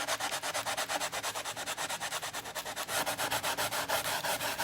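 Rough 50-grit sandpaper rubs back and forth on wood during a frame craft, a quick regular rhythm of about six scratchy strokes per second, close and fairly quiet, with no talking.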